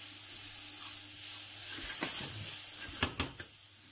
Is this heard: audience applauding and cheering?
no